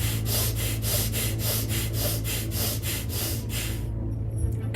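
Rhythmic breathwork with arms raised, quick forceful breaths in and out in a steady pulse of about three per second, close and loud, stopping abruptly near the end.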